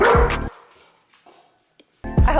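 A dog barks loudly and close by in two short bursts, one at the start and one at the end, with near silence and faint rustling in between.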